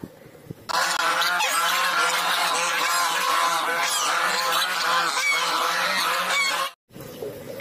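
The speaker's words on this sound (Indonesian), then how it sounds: "kalau yang ini angsa" A goose honks loudly and repeatedly at close range, in a dense run of harsh, nasal calls that fills several seconds before cutting off abruptly.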